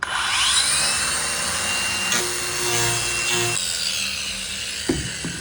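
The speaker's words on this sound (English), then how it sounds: "So the Cuts-All disc did a pretty good job at creating a live edge." A Cuts-All carving disc grinds a live edge into a wooden board, a steady abrasive rasping and sawing that runs continuously, close and loud, with a shift in pitch partway through and a few brief knocks near the end.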